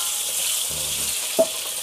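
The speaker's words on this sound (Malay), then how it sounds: "ni kita masukkan kita punya kentang dengan tempe tadi. Masukkan je. Kita goreng lah." Potatoes and tempeh fry in a pan with a steady, loud sizzling hiss throughout. A brief clink of a utensil is heard near the end, and no one speaks.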